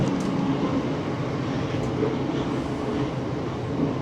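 A train pulls away from Esher station on the London & Southampton Railway, its steady rolling rumble heard from inside the carriage and holding a constant, fairly loud level.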